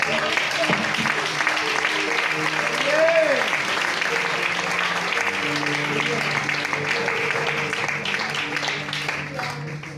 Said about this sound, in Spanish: Aplaude si es para Dios.